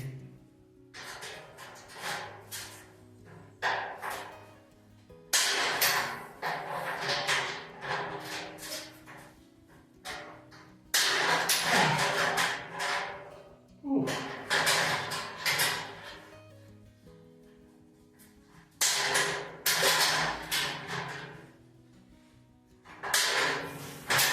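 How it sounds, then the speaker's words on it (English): Rivets being set into a metal bathroom ceiling frame with a hand riveter, repeated sharp snapping clicks and metallic clunks arriving in irregular clusters, close and moderately loud, with short pauses between groups. "we'll just put a couple of rivets in this"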